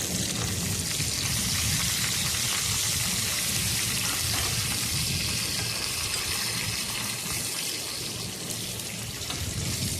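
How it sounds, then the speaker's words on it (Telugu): Onion, cumin, mustard seeds, curry leaves and dry red chillies sizzle hard in hot oil for a mango dal tempering, a dense, steady crackling hiss that stays close and loud throughout with no talking. "పోపు అయితే రెడీ చేస్తున్నాను చూడండి ఉల్లిపాయ జీలకర్ర ఆవాలు కరివేపాకు ఎండుమిరపాయలు పోపు అయితే పెట్టేస్తున్నాను"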